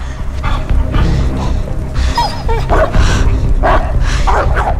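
Dog barks and yips in the Beyond Two Souls video game during a fight scene, several short barks over a busy game soundtrack.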